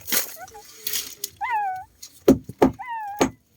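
A cat meows several times in plaintive, wavering cries, fairly close and clear, with short pauses between calls and a few louder thumps and bursts of noise mixed in.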